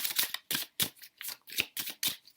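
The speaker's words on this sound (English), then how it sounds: "I'm going to do a live shuffle on camera." A meditation card deck is shuffled by hand in quick rhythmic bursts of riffling and flicking, about eight close, crisp strokes separated by brief pauses.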